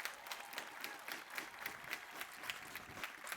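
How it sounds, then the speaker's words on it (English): A commencement audience at Grinnell College's 2021 ceremony applauds the support staff: steady, dense clapping from a large crowd, moderately loud and continuous throughout, with no one talking over it. "Please applaud for them."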